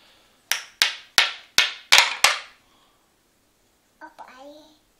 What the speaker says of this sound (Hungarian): Most mutasd meg, hogy hogy kalapálod bele őket.